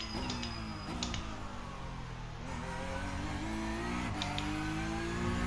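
Porsche Cup car at full throttle in a racing game at the Red Bull Ring: a steady, loud engine drone climbing in pitch through the gears, with brief shift breaks, heard alone.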